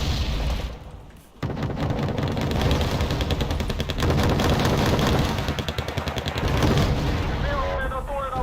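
Artillery fire in Wargame Red Dragon: dense, continuous barrages of booming shots and rapid gunfire, loud and relentless, with the game audio and a player's voice mixed in.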